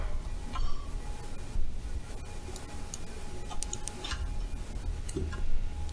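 Mouse clicks on a bear character's nose in a Five Nights at Freddy's fan game, a few light, sharp ticks scattered over a dense, noisy game background.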